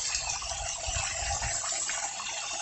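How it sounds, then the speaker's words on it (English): Water runs through a homemade charcoal filter for moonshine, a steady close-up hiss of flowing liquid with no pauses. "we'll run water through the filter"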